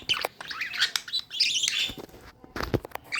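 Pet budgies chirp and tweet in quick, bright bursts from close by, with a brief stretch of busier calling in the middle and a possible flutter of wings. No one speaks.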